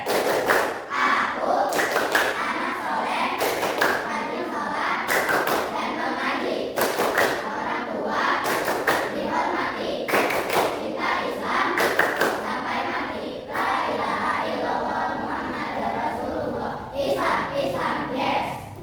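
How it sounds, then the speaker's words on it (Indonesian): Classroom pupils chant and clap in a long rhythmic routine, sharp synchronized claps in repeating groups punctuating steady group chanting by children's voices, loud and near throughout. "Tepuk anak soleh."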